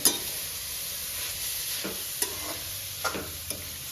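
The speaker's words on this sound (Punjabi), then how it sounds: "ਇਹ ਗਾਜਰਾਂ ਆਪਾਂ ਇਸ ਤਰੀਕੇ ਦੇ ਨਾਲ ਪਾ ਦੇਣੀਆਂ ਨੇ ਆਪਾਂ ਇਹਨੂੰ ਹਿਲਾ ਦੇਣਾ" Carrots frying in ghee for gajar halwa, stirred in a pan: constant near sizzle broken by a handful of short scraping knocks of the spoon, with no talking.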